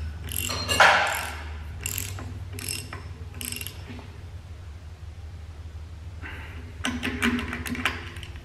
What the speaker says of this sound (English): Tighten up the delivery valve holder.